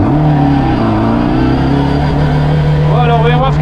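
A 1960s Mini Cooper S 1300 Mk1 pulls onto the Mas du Clos race circuit, its engine droning loud and close at steady revs before climbing in pitch as it accelerates, with speech heard over it.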